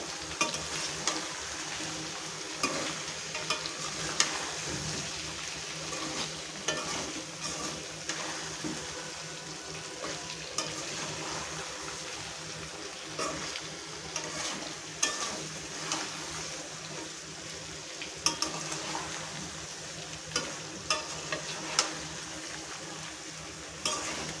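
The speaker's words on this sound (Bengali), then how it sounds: "এখন আবার একটু তলা দিয়ে নেড়ে চেড়ে দেবো।" Raw mango pickle with salt and black salt being stirred in a pan, a steady scraping and frying sizzle with irregular spoon knocks against the metal, close and continuous throughout.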